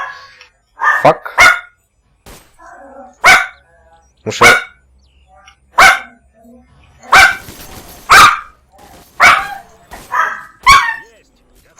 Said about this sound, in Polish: O, słyszycie moje pieski?